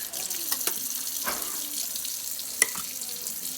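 Tap water runs steadily into a sink as kombucha bottles are rinsed, a continuous close splashing stream with small clinks and one sharp knock near the end.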